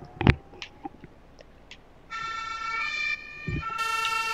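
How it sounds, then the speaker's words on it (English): An electric fire truck's siren starts up, a steady wailing electronic tone holding after a couple of loud thumps and clicks, fairly close and loud over faint background noise. "Turn on the siren."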